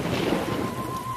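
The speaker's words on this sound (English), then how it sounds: "It's raining a lot now." Cartoon rain falls in a heavy, steady hiss with a low rumble beneath, brief and continuous.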